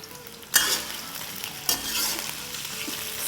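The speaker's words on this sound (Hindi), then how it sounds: "स्टर फ्राइड है ना, तो स्टर फ्राइड हमें करना शुरू कर देना है। फ्लेम हमारी हाई है।" Steak strips stir-fried over a high flame hiss in a hot pan, two sharp sizzling bursts as meat is tossed and stirred, with a steady fry continuing close and loud, no voices.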